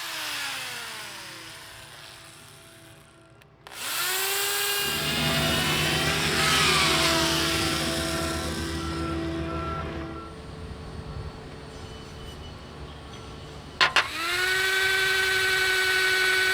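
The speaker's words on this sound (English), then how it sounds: "We marked out, countersunk, and pre-drilled the holes for the big 1/2-inch galvanized lag bolts we were going to use to try to suck in the plank." A power drill bores holes for half-inch galvanized lag bolts into a wooden boat plank, whining steadily in long close bursts that ramp up and wind down, with no talking.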